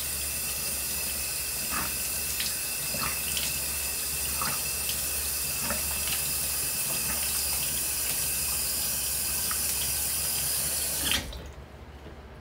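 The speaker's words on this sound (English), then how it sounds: "Rinse in our face. Remember, we're looking for lukewarm water to cool water," Running tap water splashes steadily into a sink as a face is rinsed, a close, continuous hiss with occasional small splashes, cutting off abruptly near the end to leave a quieter room.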